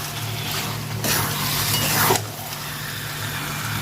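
Chicken pieces dropped into masala and hot oil, a broad sizzling hiss that swells for about a second over a low steady hum, then settles back to a softer frying murmur.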